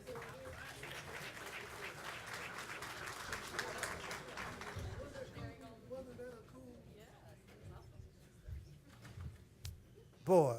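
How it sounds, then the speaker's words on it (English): Applause and clapping from an audience fill the room for several seconds, then taper off into scattered claps and murmuring, after a panel at an MLK celebration event. "Let's give them a round of applause again."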